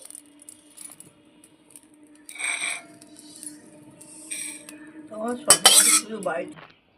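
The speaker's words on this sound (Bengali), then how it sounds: "করে ভাজা হয়ে গেছে আমি তুলে নিচ্ছি" Roasted whole coriander, cumin and fenugreek are scooped out of a pan with a metal spoon, giving bright clinks and scrapes in short bursts, sparse at first and then louder and busier near the end.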